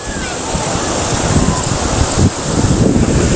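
Strong gusting wind at Bolasi Beach in San Fabian, Pangasinan buffets the microphone in loud, rumbling bursts over a constant roar of surf.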